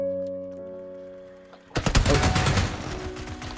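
After a quiet stretch of steady tones, rapid gunfire in the shooter game PUBG erupts suddenly and stays loud and dense, with a fast burst of close shots followed by continued firing.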